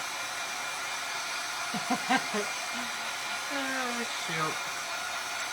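A hair dryer dries paint on a barn wood snowman, blowing a steady, even whoosh for the whole stretch while a person briefly exclaims over it.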